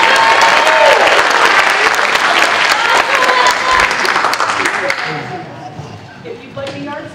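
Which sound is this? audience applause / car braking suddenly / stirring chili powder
audience applause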